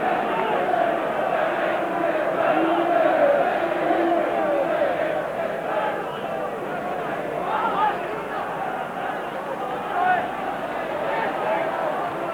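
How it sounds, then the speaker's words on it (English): Football crowd at Newcastle United versus Manchester United in the 1989/90 FA Cup, a dense, sustained roar of urging voices swelling and easing under a commentator's voice. "The crowd are willing them on"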